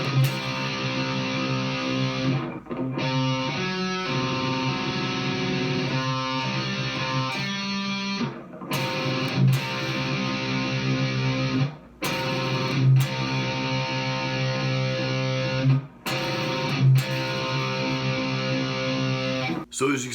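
Distorted electric guitar playing an 80s metal riff built on power chords, with palm-muted chugs between the sustained chords; loud and continuous with brief stops, no talking.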